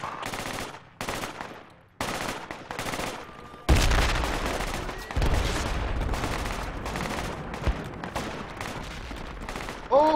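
Bursts of video game gunfire suppressing an enemy position at a building, sporadic at first, then a sustained loud barrage of rapid automatic fire with short breaks, with faint voices at the start.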